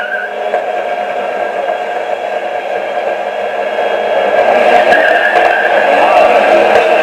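Dodge SRT-4 spinning a fresh set of new tires in a smoky burnout, a steady loud tire roar and engine whir that swells and grows harsher toward the end, with no talk over it.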